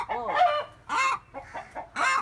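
Chickens on a poultry farm give several loud, close clucks and squawks in separate bursts, one call rising toward a crow, with no talking over them.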